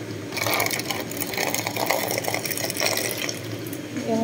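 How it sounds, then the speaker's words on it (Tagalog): Water being poured into a cup of beef-flavour instant noodles, a continuous splashing trickle at close range, with no talking. "Lagyan pa natin ng tubig."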